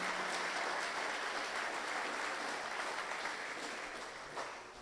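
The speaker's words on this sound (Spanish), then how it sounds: "Dele un aplauso a Dios en esta mañana" Applause from a Spanish-speaking church congregation during a morning service, a steady, fairly faint roar of many hands clapping that slowly tapers off.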